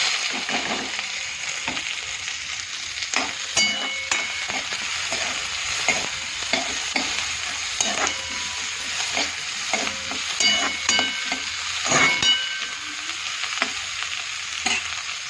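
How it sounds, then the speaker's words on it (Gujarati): Cumin, onion, green chillies and curry leaves sizzle and crackle in hot oil in a kadai while a spoon stirs, with repeated clinks and scrapes against the pan over a steady frying hiss; nobody speaks. "અહીં કઢાઈમાં તેલ મૂકી દીધું છે. હવે નાખી દઈએ જીરું, ડુંગળી, લીલા મરચાં અને મીઠી લીમડી."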